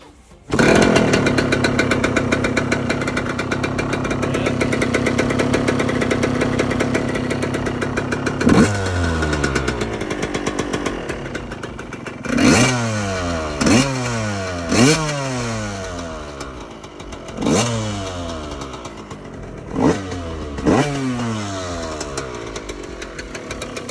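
Motorcycle engine, choke on, starts and runs steadily at idle, then revs up sharply several times in a row, loud and close, with no talking.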